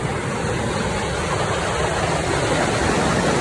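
Aras Waterfall high on Uludağ, heard as a dense, continuous roar of falling water, loud and steady from start to finish with no voices.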